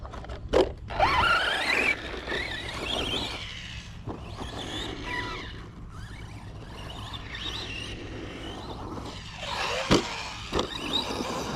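An Arrma Vorteck brushless 3S RC car revs and accelerates in bursts, its motor emitting high-pitched whining squeals that rise and fall, with tire scuffs and short pauses between runs, fairly close.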